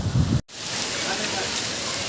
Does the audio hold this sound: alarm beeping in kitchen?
no